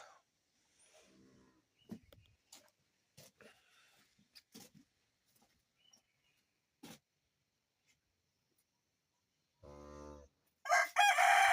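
Sporadic chicken clucks and short calls scattered across quiet stretches, followed near the end by a loud rooster crow close by.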